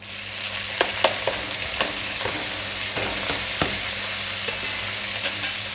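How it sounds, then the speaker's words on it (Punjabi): Cumin seeds tempering in hot oil produce a loud, continuous sizzle close by, dotted with crisp popping crackles at irregular intervals, with no talking. "ਤੇਲ ਜੀਰਾ ਆਪਣਾ ਚਟਕਣ ਲੱਗ ਗਿਆ ਹੁਣ ਆਪਾਂ ਇਹਦੇ ਵਿੱਚ ਤੜਕਾ ਪਾਵਾਂਗੇ"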